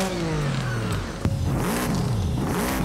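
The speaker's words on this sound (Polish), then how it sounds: "Tutaj też mamy silnik Boxer, słyszycie, że on brzmi inaczej, 4 litry, ale już sześciocylindrowy." A 4-litre six-cylinder boxer engine in Forza Horizon 5 revs hard, its pitch sweeping down, then rising and falling in repeated surges, loud and continuous with no talk.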